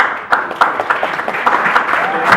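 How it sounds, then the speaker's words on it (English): Wedding guests applaud the parents with steady, moderately loud clapping, sharper individual claps popping through, while voices chatter underneath. "give them a round of applause and give them a toast"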